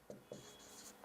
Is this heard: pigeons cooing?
no